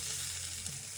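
A steak sears in rendered fat on a camp stove, giving a brief, steady sizzle that stays close and even, with no voices.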